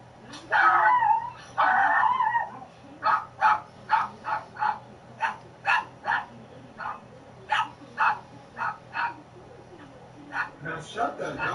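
A dog barks close by in a rapid series of about fifteen sharp woofs, some of them yelping. A person talks loudly over the start of it.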